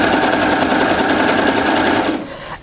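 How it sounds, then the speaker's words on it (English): A Baby Lock serger stitches a back shoulder seam, its fast, even motor whir running loud and steady before it cuts off near the end. "So I'm just going to sew, and I'm sewing on the back shoulder seam."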